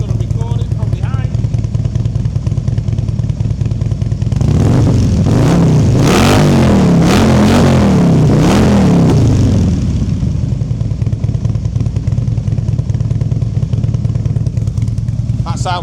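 A warmed-up 2016 Harley-Davidson CVO Street Glide with the 110 engine and a Stage 1 Vance & Hines exhaust idles loudly, then rises through a series of sharp revs in the middle before dropping back to a rumbling idle.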